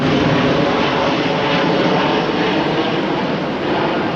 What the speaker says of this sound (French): il y a des avions qui passent. Ils sont pas très haut quoi